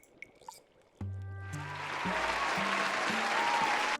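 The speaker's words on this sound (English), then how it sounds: "Where's the applause sound?" After a brief electronic tone, a recorded burst of applause swells up and holds steady, bright clapping filling the sound before cutting off abruptly.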